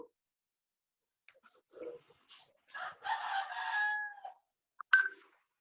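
A rooster heard through an online video call from a home during a university thesis exam gives a few short clucks, then a full, drawn-out cock-a-doodle-doo, ending with a brief sharp call; moderately near, no talk.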